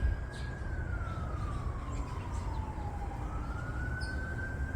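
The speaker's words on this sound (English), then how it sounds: "I just realized there's a police car over me." A police car siren wails outdoors, sliding slowly down and then back up in pitch, somewhat distant and steady beneath a constant rumbling background.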